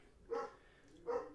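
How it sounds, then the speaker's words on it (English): Two short barks from a big dog, spaced about a second apart, moderately distant with a faint background hum. "Sorry if you can hear the dogs barking"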